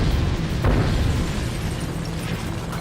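Explosives blow apart a solid table in a blast set off about 140 metres from the crew, heard as a loud, dense low rumble with a burst of debris that holds steady without fading, no voices present.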